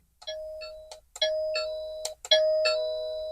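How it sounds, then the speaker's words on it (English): An electronic doorbell from a strobe doorbell kit plays a bright multi-note chime melody, clear and close, with tones ringing out between short pauses and no talking. "where you can see the light and hear the chime"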